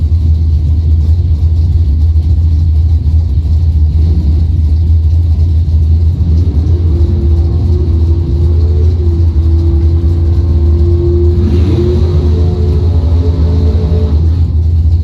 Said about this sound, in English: And Colin Watson, 661 in the Malibu.